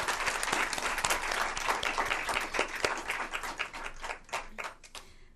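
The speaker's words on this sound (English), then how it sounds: "please give her a round of applause as well" Applause from the audience at a school board meeting, a dense wash of many hands clapping that carries steadily and loudly, then thins toward the end.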